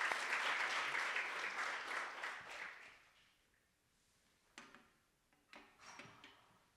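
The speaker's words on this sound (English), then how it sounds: "Applause for Sarah and Piper." An audience at a research symposium claps together, the sustained applause loud at first then thinning and fading out over about three seconds, followed by quiet with a few scattered knocks and clicks.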